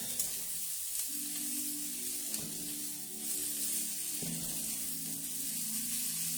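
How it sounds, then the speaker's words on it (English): Beef strips and vegetables sizzle steadily in a hot stir-fry pan, a continuous close hiss with a few brief clinks and scrapes scattered through it. "So I've added my beef strips into my veggies."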